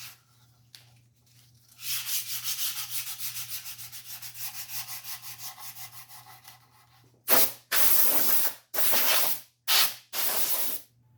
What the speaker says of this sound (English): After using the duster can